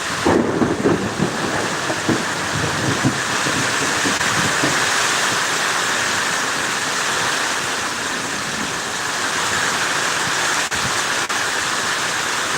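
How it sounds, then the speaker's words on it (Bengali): Thunder rumbles through heavy, steady rain and gusty storm wind, a dense roar of falling water lasting throughout with low booming peaks early on. "মেঘের গর্জন হচ্ছে সেটি নিশ্চয়ই আপনারা শুনতে পাচ্ছেন"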